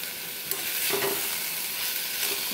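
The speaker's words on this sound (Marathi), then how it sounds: "यामध्ये मी आता सिमला मिरची घालून घेते" Capsicum (shimla mirchi) being stirred and fried in a pan with red chili powder and turmeric, giving a steady close sizzle with a scrape of stirring near the middle.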